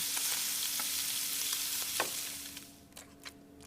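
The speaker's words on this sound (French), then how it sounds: "maintenant je vais cuire la viande hachée" Ground beef fries in a pan with a steady, close sizzle and a few scraping stirs. The hiss eases slightly toward the end.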